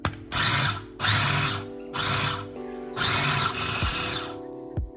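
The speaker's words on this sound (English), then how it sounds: "So basically I blitz up that onion spread, that Italian onion spread." A food processor blitzes an Italian onion spread in four loud bursts of whirring motor noise with short pauses between, ending in a brief final pulse.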